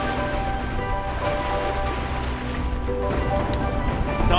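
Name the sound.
water rushing past a sailing boat in waves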